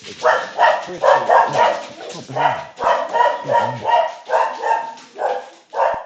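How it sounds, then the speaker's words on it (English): A dog barks frantically indoors after a doorbell rings, loud close repeated barks in a steady rapid series, each bark sharp and followed by a short gap, with a few yips mixed in. "The dog is just gone nuts because someone's rang on the doorbell."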